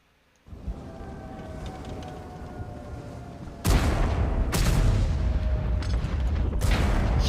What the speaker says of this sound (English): that was, I imagine, a Hesh round